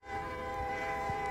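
A train in the Crash Town video game gives a steady, droning, horn-like tonal hum with a rumbling undertone, fading in quickly and holding at moderate loudness.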